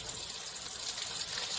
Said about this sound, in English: What I do is I add some water